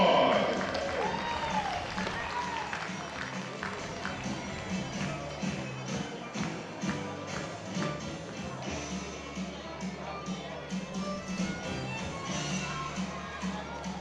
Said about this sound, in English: Ladies and gentlemen, give yourselves a round of applause.